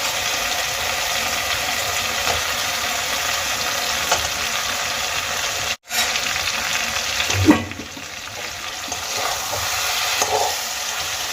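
Fried fish heads sautéing in oil-releasing spiced masala make a steady, dense sizzle throughout, with a brief dropout and a single metallic clank of a spatula partway through. No one speaks.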